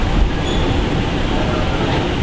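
A Long Island Rail Road commuter train rumbles close by at a New York platform with a loud, steady roar and mechanical rattling, as though passing or pulling along the platform.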